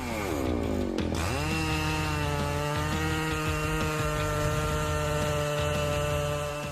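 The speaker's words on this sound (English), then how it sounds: "The resounding sound of the Husqvarna 3120 XP chain saw makes us admire the power it" Husqvarna 3120 XP chainsaw cutting through wood: a loud, steady engine roar holds throughout, with a brief pitch dip near the start as the chain bites in before revving back to full power.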